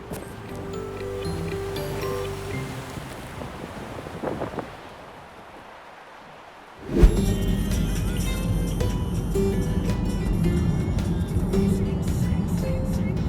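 A car drives along the Causeway Coastal Route in Northern Ireland, wind buffeting the microphone at first, then after a brief lull a steady, loud engine and road roar takes over and holds.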